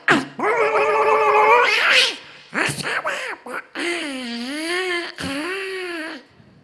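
At a stage show before an audience, a performer imitates a kitten singing, with loud wavering mews and meow-like phrases in bursts separated by brief pauses.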